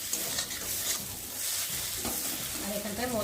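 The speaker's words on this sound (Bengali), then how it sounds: "ভালোভাবে ভাজাও হয়ে গেছে দেখতে পাচ্ছ, তেলটা ছেড়ে দিয়েছে, সুন্দর ভাজা হয়ে গেছে দেখতে পাচ্ছ মশলাটা" Masala spices frying in oil while being stirred for a rohu fish curry, a continuous close sizzle with scraping stirs throughout, fairly quiet.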